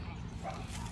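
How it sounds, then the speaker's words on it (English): Dogs barking at the owner indoors, a steady muffled run of woofs and yips at moderate distance with no talking over them. "my dogs are barking at me"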